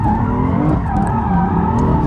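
A BMW M3 drifting, with loud continuous tire squeal and a roaring engine heard up close for the whole stretch, no voices.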